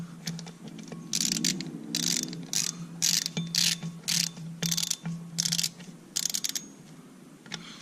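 A right-angle drive rotator socket ratchets in rapid bursts of crisp clicking, on and off in short runs over a faint low hum, during a manual clutch upgrade installation.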